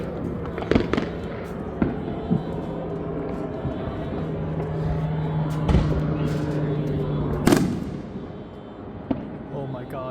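Outdoor fireworks pop and boom at irregular intervals around midnight on New Year's, some sharp and close, others duller and farther off, with people talking and chatting through it.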